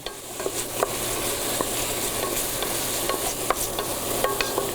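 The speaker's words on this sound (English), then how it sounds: "We're going to add that into our pot, and you immediately want to start stirring that up." Chopped onions and parsley sizzle steadily in a soup pot while a spoon stirs them, a close continuous frying crackle with faint scraping taps and no voices.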